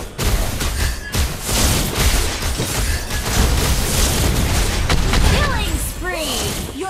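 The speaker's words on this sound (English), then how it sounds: "Your team destroyed a turret." Mobile battle arena game action during a turret kill: dense overlapping booms, blasts and rapid bursts pile up continuously, with a game announcer voice breaking in near the end.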